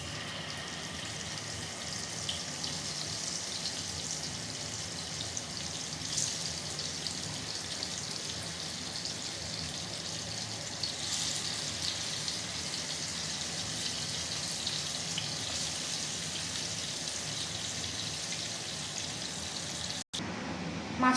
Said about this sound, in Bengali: তেলটা গরম করতে দিয়েছি, তেলটা গরম হয়ে গেছে। এবার এর মধ্যে মাছগুলোকে ছেড়ে দেবো।